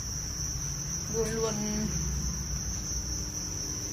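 Crickets raised on a cricket farm chirp in a dense, continuous high trill, close and steady throughout, while a person briefly speaks near the middle.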